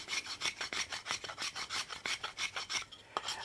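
A rasp bevels the edges of a small mahogany piece in quick, even back-and-forth strokes, each a close, crisp scraping rasp, about a dozen in steady rhythm, with no voices.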